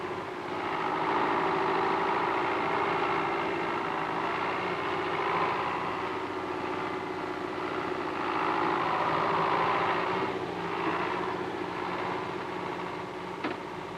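A David Brown 1200 tractor engine runs steadily at a constant loaded rumble during manure loading work, close and continuous throughout with no voices.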